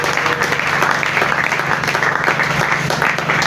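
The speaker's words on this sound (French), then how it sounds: "Est-ce qu'on peut acclamer la parole de Dieu?" A church congregation at a French-language Bible teaching on the local church bursts into steady, loud applause, a dense wash of many hands clapping that holds throughout with no pause.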